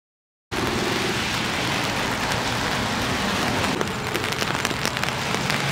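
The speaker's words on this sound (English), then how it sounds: "It is pouring out." Heavy rain pours steadily onto a Seattle street, a dense, unbroken hiss that starts abruptly and stays loud and close throughout with no voices.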